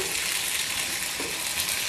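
Ivy gourd (kovakkai) sautés in a pan, its skins wrinkling as a continuous, even sizzle hisses close up, with no talking.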